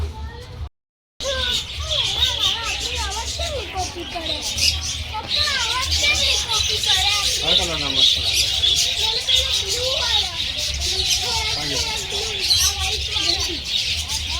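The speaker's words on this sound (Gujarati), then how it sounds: "ચકલા છે ચકલી." Sparrows chirp in quick, scattered tweets around a Swaminarayan temple at sunset. A steady low hum and a background voice sit beneath the birdsong.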